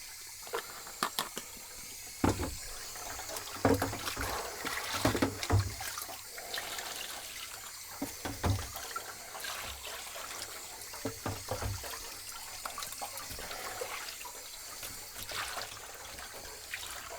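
Water mixed with wetting agent sloshes and trickles in a darkroom print tray, with irregular soft splashes and drips continuing close by throughout.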